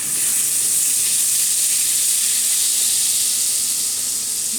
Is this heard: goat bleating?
no